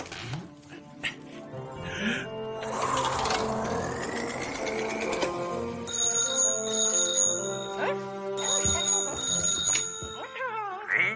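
A telephone rings during an outgoing call, giving repeated bright electronic tones in bursts over a busy background of other sounds.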